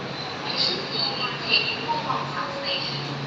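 An electric Gold Line metro train in Bangkok hums and whirs at Charoen Nakhon station platform, with faint squeals and electric tones over a steady rumble.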